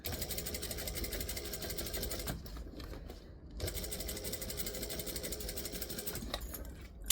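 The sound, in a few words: sewing machine stitching around a bag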